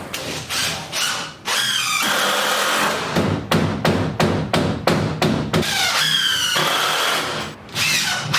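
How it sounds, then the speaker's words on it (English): A power drill drives screws through a board into a raised garden bed built from recycled metal, in several loud whirring bursts with short pauses and occasional thuds, wind and rain faintly in the background. "So let's get this board here screwed on."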